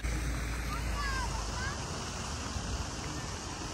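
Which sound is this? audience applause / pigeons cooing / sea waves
sea waves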